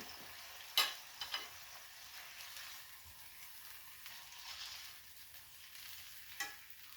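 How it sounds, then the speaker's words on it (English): Meat browning in grandma's Wagner 8-inch cast iron skillet, a faint steady sizzle broken by a few sharp scraping stirs, heard close but quiet. "So we're going to brown the meat first"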